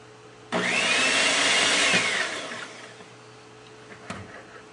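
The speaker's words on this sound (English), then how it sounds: "got my mixer here. See if this can't speed up the dissolving process a little bit." An electric mixer whirs loudly for about two seconds while stirring gelatin in a vintage mandarin mint mold recipe, then winds down and stops, followed by a faint clink.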